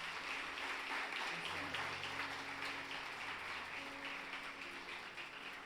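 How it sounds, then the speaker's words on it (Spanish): A church congregation applauds during a family worship service, a dense continuous wash of clapping with faint sustained musical tones underneath and a murmur of voices. "¿Quiénes le damos un aplauso grande al Señor?"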